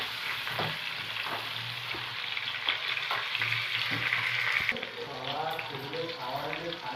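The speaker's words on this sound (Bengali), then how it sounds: "তেল আমার গরম হয়ে গেছে। এবার আমি এর মধ্যে মাছগুলো দিয়ে দেবো।" Prawns frying in hot refined oil for a Bengali prawn malai curry, a dense steady sizzle with crackling spatters throughout, loud and close, briefly shifting tone near the end.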